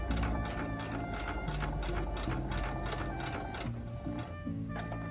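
A sewing machine runs steadily while stitching a zippered pouch. The needle gives a fast, even mechanical chatter that goes on without a break, fairly close and with no talk over it.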